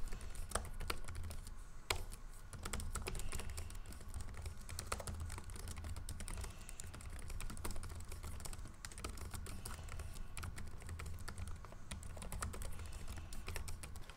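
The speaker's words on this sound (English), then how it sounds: "And here is a typing test of the Ideapad 5 Pro." Fast, steady typing on a Lenovo Ideapad 5 Pro laptop keyboard, soft close-up clicks with a few sharper taps, quiet and unbroken by speech.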